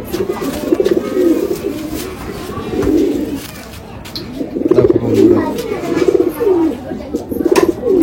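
Desi pigeons coo in repeated soft rolling phrases, close by, with someone speaking briefly between the calls.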